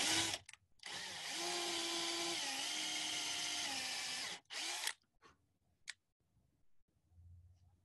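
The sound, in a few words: drilling dowel holes in wood with depth stop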